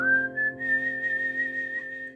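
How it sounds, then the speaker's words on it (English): A person whistles the intro of the Scorpions song Wind of Change at an acoustic guitar lesson. A single clear, sustained melodic whistle sounds close and loud over low held tones. "we've got an intro for this, which is the whistling part of the song"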